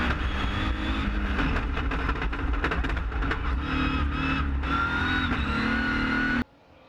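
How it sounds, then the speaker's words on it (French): Onboard a Toyota Corolla rallycross car at the race start at Pont de Ruan, France, in 2015, the engine roars loud and close. It revs hard and gears change through a dense, gritty drone that cuts off abruptly at the end. "Et voilà, c'est parti. Nous sommes à bord de la Toyota Corolla de Christophe Sonnois."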